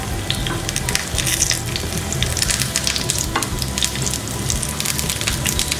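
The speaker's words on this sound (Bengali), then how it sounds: "এবার চুলার আঁচ মিডিয়াম করে আমি চপগুলোকে ভেজে নিব।" Green banana chops fry in oil over medium heat, giving a dense, continuous, close sizzle with fine crackling and popping that holds steady throughout.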